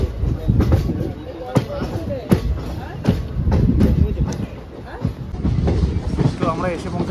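Aranyak Express passenger train running on rails near Kharagpur, a steady rumble with repeated sharp wheel clacks throughout, heard from inside the carriage while someone talks over it.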